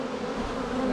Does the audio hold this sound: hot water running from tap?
no